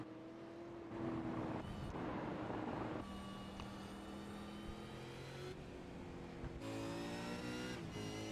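Onboard a V8 Supercar in a New Zealand summer series race, the engine drones under heavy engine braking, its pitch stepping and sliding between gears, loud and close with wind rush throughout.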